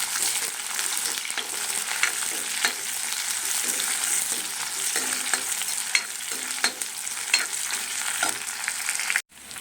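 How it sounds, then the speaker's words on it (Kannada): Chopped onions frying in a pan after mustard seeds have popped, a steady loud sizzle with occasional stirring scrapes running throughout and no voices. "ನಾನು 2 ಈರುಳ್ಳಿನ ಕಟ್ ಮಾಡ್ಕೊಂಡಿದ್ದೀನಿ. ಇದನ್ನು ಹಾಕ್ತಾಯಿದ್ದೀನಿ. ಇದನ್ನು 2 ನಿಮಿಷ ಫ್ರೈ ಮಾಡಿಕೊಂಡು"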